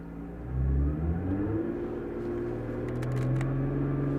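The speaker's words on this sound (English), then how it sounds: "We're going to accelerate in first gear." A Nissan R35 GT-R with a GR6 transmission accelerates in first gear, its engine note a steady, close rumble that rises in pitch and holds for several seconds.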